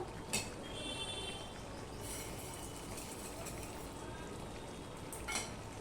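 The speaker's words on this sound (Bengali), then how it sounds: "বেসন, যেহেতু রয়েছে এইভাবেই নাড়তে হবে, দেখতেই পাচ্ছ" A spoon stirs a gram flour (besan) mixture with bitter gourd in a pan, a steady soft scraping and sizzle running close and continuous, with a couple of sharper clinks near the start and end.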